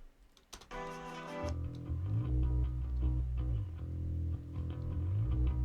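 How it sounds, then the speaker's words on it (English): A deep bass guitar through an Ampeg amp simulator plays a low, sustained line with a steady groove, preceded by a brief bright burst, no voices. "After that, we got some bass guitar."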